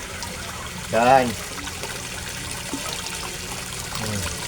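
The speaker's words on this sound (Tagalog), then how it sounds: "At sa sobrang lakas niya, ang daming bubbles na naproproduce niya at the same time" Water from a koi pond pump and waterfall splashes and bubbles steadily in the background, with someone speaking briefly over it near the start.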